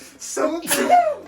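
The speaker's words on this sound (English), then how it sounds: "That's our first sneeze on camera." A single sharp human sneeze with a breathy intake and an abrupt burst, close and loud, lasting about a second.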